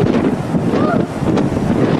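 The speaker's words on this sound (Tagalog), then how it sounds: "Ang lakas ng hangin! Nadadala ako!" Strong wind roars and buffets the microphone in loud gusts, with faint voices mixed in.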